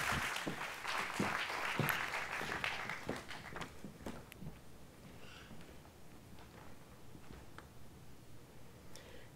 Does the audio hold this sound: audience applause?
yes